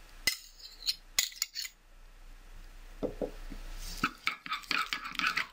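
Garlic, cumin, mustard and salt stirred together in a bowl, giving close, intermittent clinks and scrapes of a utensil against the dish, with short bursts and pauses.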